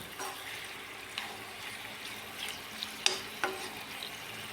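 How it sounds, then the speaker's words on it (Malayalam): Chicken pieces shallow-fry in a pan with a gentle continuous sizzle, broken by a few sharp spatter pops and turning scrapes, heard up close. "3 മിനിറ്റ് ഒന്ന് അങ്ങോട്ടും ഇങ്ങോട്ടും തിരിച്ച് മറിച്ചിട്ട് ഒന്ന് ഫ്രൈ ചെയ്തെടുക്കാം"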